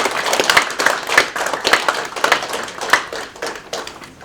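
A foundation launch ceremony audience claps along at a fairly quick, loosely synchronized beat, individual hand strikes standing out distinctly with no talk over them.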